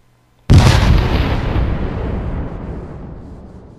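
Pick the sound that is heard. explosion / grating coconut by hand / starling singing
explosion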